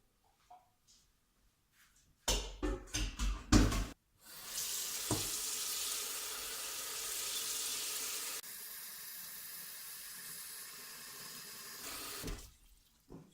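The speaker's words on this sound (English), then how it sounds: "We're going to add the water to it." Water runs steadily into a pot of pea soup with barley, a loud continuous rushing pour lasting several seconds, preceded by a few clunks and knocks of the pot and utensils.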